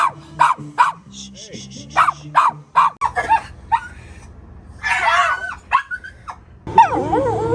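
A dog barks in sharp, repeated bursts close by inside an RV, mixed with whimpers and yips, while a person talks intermittently.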